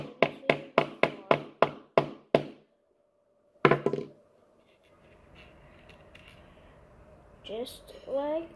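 Short nails hammered into a homemade toy car, a quick run of crisp, close taps followed by one heavier knock, then quiet room tone before a voice starts speaking.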